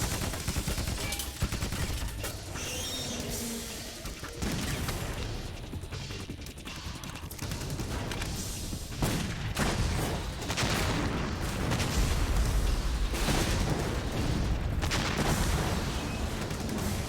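Dense gunfire from soldiers shooting in Metal Gear Solid 2, heard as a continuous loud barrage of shots and bursts with booms and crashes throughout.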